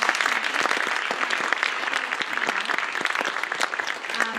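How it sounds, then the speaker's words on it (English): Dense, steady round of applause from an audience at a university marketing and communications launch event, many hands clapping continuously at close range with no talk over it. "I want to have a big round of applause once again for Jeff for hosting this"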